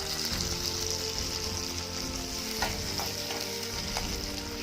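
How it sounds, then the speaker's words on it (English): Garlic frying in hot splattering oil for a chutney, a dense continuous close sizzle with a few faint stirring knocks, no talking. "After that we're going to fry our garlic in it"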